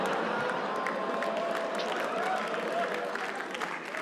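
An audience claps for Anas at a comedy roast, a dense, steady wash of applause with scattered cheers sustained for several seconds.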